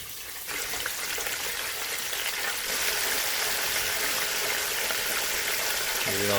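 Chicken fried steak sizzles and bubbles in a deep fryer, a steady broadband frying hiss that swells and holds loud and close throughout, with a low hum entering near the end.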